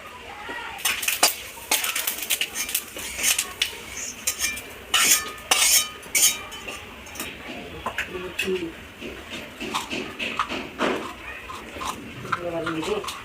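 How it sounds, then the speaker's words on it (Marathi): Green cardamom and other spices dry-roast in a pan for a homemade spice mix, with irregular close scraping and clinking of a spatula against metal and a faint voice in the background. "हिरवी विलायची पण भाजून घेते."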